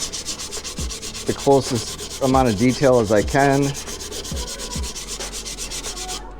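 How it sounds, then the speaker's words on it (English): Hand sanding a walnut dovetail box, a steady close scratchy rubbing with rhythmic back-and-forth strokes, while someone talks over it. "I'm smooth sanding every single section"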